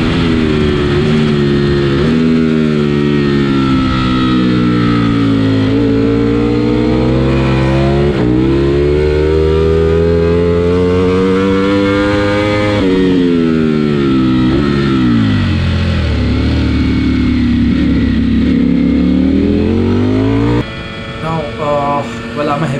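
Ducati Panigale V4 ridden on a race track during a trackday, loud onboard engine howl rising and falling through repeated gear changes and revs, continuous and close, with a brief drop in the final seconds.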